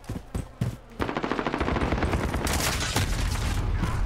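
Rapid automatic gunfire in the video game Modern Warfare, a few sharp shots followed by a dense, loud sustained burst of fire with no talking.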